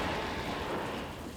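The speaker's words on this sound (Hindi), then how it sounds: "बारिश ही इतनी हो रही" Heavy rain pours steadily in a dense, unbroken wash, with a low rumble of thunder underneath and no voices.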